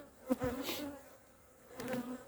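Honeybees at an apiary buzz in faint, wavering hums that swell briefly and fade, with a quieter lull between two bursts.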